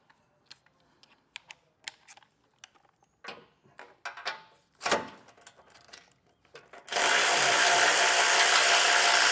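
A hand ratchet clicks in quick, close bursts while a 15 mm socket backs a nut off a stud on a 2025 Ford during a base plate install, followed by a sustained loud rushing noise.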